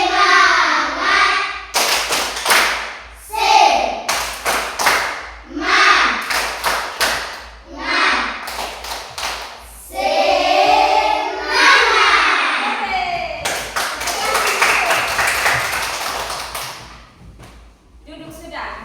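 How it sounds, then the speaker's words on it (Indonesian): Elementary schoolchildren in a classroom perform a rhythmic tepuk semangat clapping routine, with sharp group claps in bursts between loud chanting voices and an adult speaking. "anak-anak bangun berdiri untuk kita speaking dulu, yaitu tepuk semangat"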